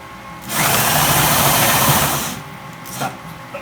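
A cordless drill spins the rollers of a small homebrew grain mill, crushing malted grain for beer: a loud steady whirring grind for about two seconds that then drops away, with a brief clatter near the end.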